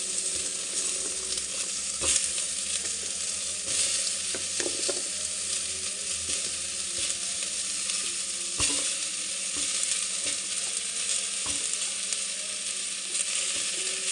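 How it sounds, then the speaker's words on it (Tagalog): Onion, garlic and chopped vegetables fry in a pan for pumpkin soup, a steady close sizzle with occasional scraping clicks of stirring, no talking. "brown na itong onion at saka garlic, saka ilagay yung mga vegetable"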